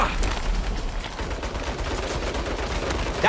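Rapid automatic turret gunfire in the Saints Row (2022) video game, a sustained dense volley of loud shots running throughout without any talk.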